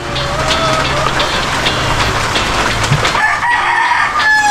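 Chickens cluck and a rooster crows at a poultry yard where ducks and turkeys are also kept in the rainy season, with continuous close clucking, a crow-like call near the start, and steady background noise.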